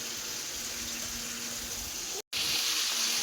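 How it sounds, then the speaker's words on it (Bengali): Kitchen tap running while raw meat is washed in the sink, a steady loud gush of water that cuts off for a split second and then resumes. "এই যে দেখো এখন মাংস ভালোভাবে ধুচ্ছি।"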